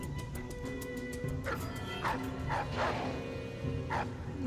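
Dogs barking in Dishonored: Death of the Outsider, a run of several short yips and barks at middle distance, with a thin ticking rhythm early on and no talk.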